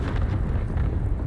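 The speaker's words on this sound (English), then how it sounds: "Now look at incoming bombing run." A bombing run explosion in a World War II Pacific video game, a dense, continuous low rumbling blast that fills the whole moment at close range with no talk over it.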